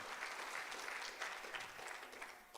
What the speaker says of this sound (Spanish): Ahora denle un fuerte aplauso al Señor